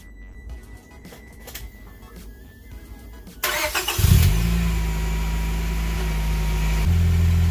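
A fifth-generation Honda Prelude engine cranks and starts partway through, then settles into a steady loud idle after some quieter clatter and background noise.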